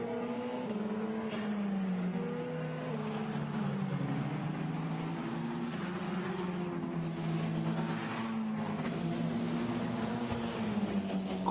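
A Formula Renault race car laps Zandvoort in qualifying, its engine droning steadily at mid distance with shifting pitch as it accelerates and changes gear, sustained throughout with no voices.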